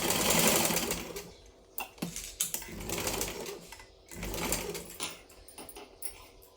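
Sewing machine stitching a lined blouse in short bursts of rapid mechanical whirring, separated by brief pauses and handling clicks, fairly close and moderately quiet, with no voices.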